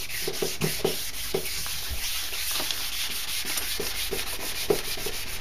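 A plastic headlight lens being sanded by hand, a steady close scratchy rubbing with repeated back-and-forth strokes throughout, no talking.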